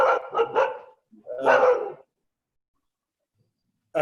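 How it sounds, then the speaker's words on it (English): A dog barks several times in quick succession, then once more after a brief pause, close and loud, followed by silence and a final short bark. "Some barking sound is there."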